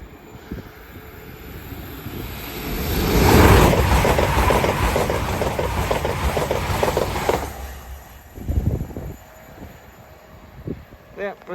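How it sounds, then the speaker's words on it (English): An LNER Azuma express bound for Edinburgh Waverley rushes past Hett Mill level crossing, a loud broadband roar building and holding for several seconds with rhythmic wheel clatter before fading, followed by scattered thumps and background noise; voices are audible. "Passing through now is the LNER Zoom service off to Edinburgh Waverley."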